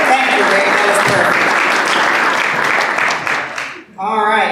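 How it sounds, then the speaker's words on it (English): A Rotary Club meeting audience gives a sustained round of applause for a fellow member, dense steady clapping that fades out near the end before a voice begins speaking. "Round of applause for Rick."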